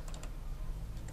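Brief, close clicking keystrokes on a computer keyboard while entering an Outlook calendar item, a few quick taps over a low background hum.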